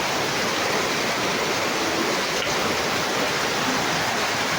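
Floodwater rushes steadily after heavy rain in Angeles City, a loud continuous roar of flowing water with no voices over it.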